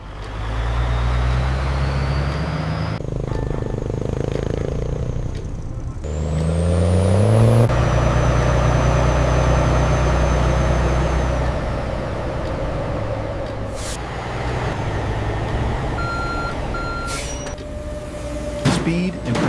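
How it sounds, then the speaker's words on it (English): Refrigerated trucks hauling harvested cassava rumble loudly with engine drone, passing vehicle sweeps and hissing brake or door sounds at a processing site. "Refrigerated trucks move the harvested cassava under controlled temperatures"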